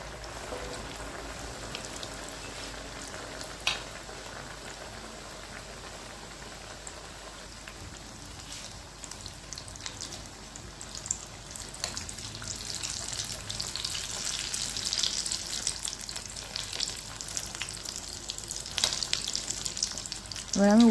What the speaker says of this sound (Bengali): এবার আমি উল্টে পাল্টে লাল লাল করে ভেজে নেব